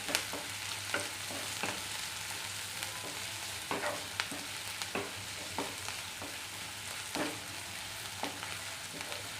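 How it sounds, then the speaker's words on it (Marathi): Finely chopped onion sautés in a pan for pasta, a constant hissing sizzle under regular scraping and tapping strokes of a spatula stirring every second or so, close and fairly loud, with no voices. "कांदा छान असा परतून घेऊया।"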